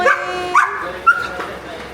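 A young dog, still puppy-like and large, gives a few short yips and whimpering barks close by, with people talking affectionately over and around it.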